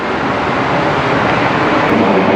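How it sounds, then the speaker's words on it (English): An airplane flying overhead during an outdoor ride, making a steady, loud, broad roar that fills the whole stretch without a break, with no one talking. "hold on for a second, there's a plane coming"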